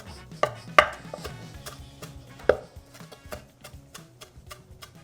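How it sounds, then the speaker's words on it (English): A knife chops cilantro rapidly on a cutting board, a quick series of crisp taps with a few louder knocks, nearby and alone. "So I like to gather the tops together and then start chopping."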